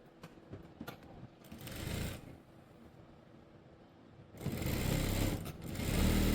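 A sewing machine stitching a school coat, running in two bursts of rapid, whirring needle motion separated by a quieter pause, with the second run longer and louder up close.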